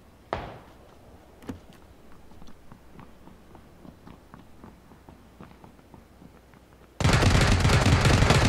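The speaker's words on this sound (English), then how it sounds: "I can't stop when somebody's shooting me." Gunfire in PUBG: PlayerUnknown's Battlegrounds, with a couple of sharp single shots early, scattered faint distant pops, then a sudden loud, sustained burst of firing near the end.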